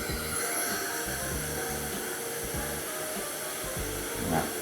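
A hair dryer blows steadily at the roots of straight hair during salon styling, a constant loud rushing whir with small shifts as the airflow moves.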